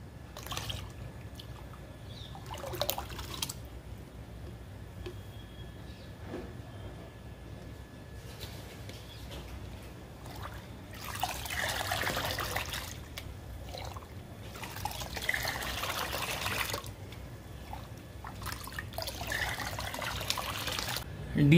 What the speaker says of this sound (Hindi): इस बाल्टी में 10 लीटर साफ पानी है तो इसके अंदर हम मिक्स कर लेते हैं।